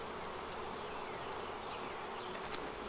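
Bees swarm around a double-stacked flow hive, producing a dense, continuous buzzing drone that stays steady and close throughout.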